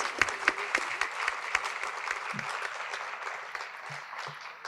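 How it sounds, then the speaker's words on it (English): Audience applause at a school district military recognition ceremony honoring graduating students joining the United States Marines, a dense steady clapping from a large crowd in a hall, holding fairly even and easing slightly toward the end. "One more round of applause for the United States Marines."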